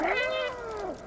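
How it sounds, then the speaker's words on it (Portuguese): A cat in the game Stray gives a single clear, close meow, rising and then falling in pitch over about a second, with no talking. "Eu posso miar?"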